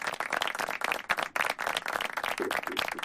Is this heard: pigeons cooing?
no